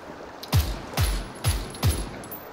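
Four evenly spaced gunshots from a weapon in PUBG, each a sharp punchy crack with a low thump, fired at a measured pace against quiet background.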